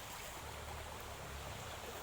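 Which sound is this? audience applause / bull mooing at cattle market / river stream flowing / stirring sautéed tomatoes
river stream flowing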